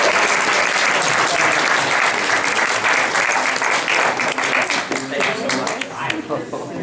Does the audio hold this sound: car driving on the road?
no